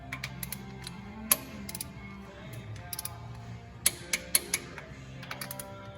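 Ratchet wrench torquing cylinder head studs on a shop truck engine, quick clicking pawl bursts with sharper metallic ticks, close and moderately quiet over low background hum.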